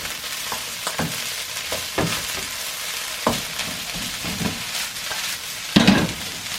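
Barbecue pork, mixed vegetables and shrimp fry in a hot pan for special fried rice, a steady close sizzle broken by scraping stir strokes every second or so, with one louder clatter near the end.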